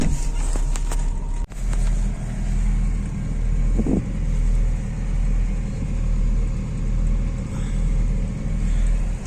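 A car engine idles and rumbles steadily up close while the car is pulled forward. A sharp knock sounds early, and the motor's low drone swells and eases slightly in slow waves, with no talk over it.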